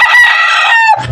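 A single loud, close rooster crow rings out for about a second, clear and sustained with a slight upward waver before it breaks off.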